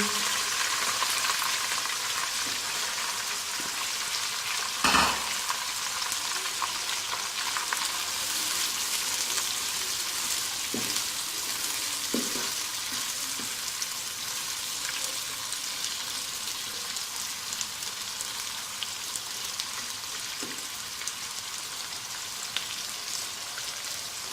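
Onions fry in a pot for daal, giving a steady close sizzle and crackle that runs throughout, with an occasional clink of a spoon stirring against the pot.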